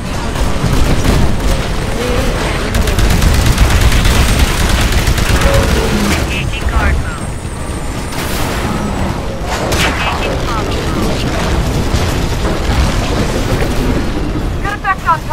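A cannon firing in the Titanfall video game, heavy booms and bursts of gunfire rolling over a dense, loud battle din.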